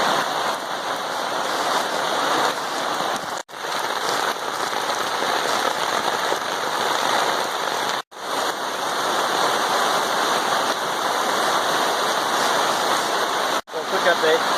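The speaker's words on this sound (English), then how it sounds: "here comes a lot of rain." Heavy rain pours down at a campsite in a dense, continuous hiss of drops hitting surfaces, loud and close, with a few brief cuts in the sound.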